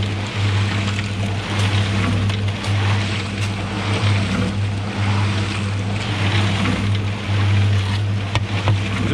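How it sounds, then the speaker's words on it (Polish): A Defro concrete mixer's engine runs steadily nearby outdoors, a constant low drone with wind noise over the microphone. "Betoniarka od sąsiada. Defro."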